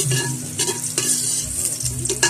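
Garlic browning in a hot pan gives a steady, close sizzle, broken by the scrape and clatter of stirring. No one speaks.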